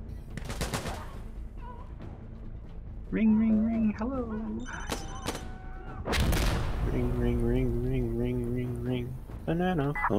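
Explosions and gunfire crack through a co-op military shooter match, sharp bursts around the start and middle of the stretch, with people talking over them throughout.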